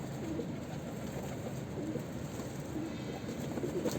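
Pigeons at a bath coo softly and steadily against a dense, continuous murmur of ambient noise, with no voices present.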